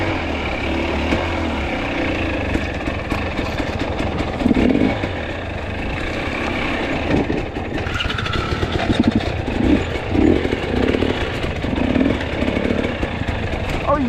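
A dirt bike engine on an enduro trail ride idles and revs in uneven bursts, close and loud, with a rider breathing and speaking faintly beneath the engine noise.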